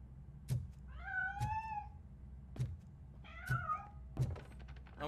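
A cat in the video game Robocop: Rogue City meows twice in drawn-out, wavering cries between heavy rhythmic metallic thuds of footsteps, moderately close with no talk.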